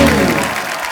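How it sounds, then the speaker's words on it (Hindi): On a television comedy talk show set, the studio audience breaks into loud, dense applause that tapers slightly over about a second, with a crowd murmur mixed in. "एक बार अक्षय बाजी, इलियाना और ईशा के लिए जोरदार तालियां"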